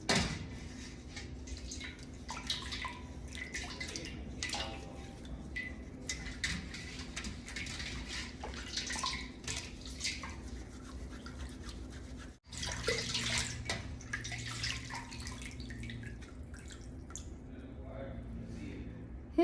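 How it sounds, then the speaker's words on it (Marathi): Silver items are rinsed clean in water at home, with running water, drips and light metallic clinks of the pieces knocking together, and a brief pause midway before the splashing resumes. "हे आपण आता पाण्यामध्ये स्वच्छ धुवून घ्यायचंय"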